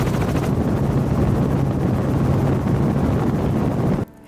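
A helicopter in Maui thunders close and steady with a dense rotor drone and wind buffeting, then cuts off abruptly near the end.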